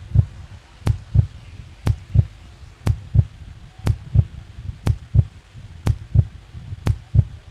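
A heartbeat sound effect plays as a tense beat during a review in a local cricket match. Low thumps arrive in steady pairs, about one pair per second, loud and alone with a faint hum beneath.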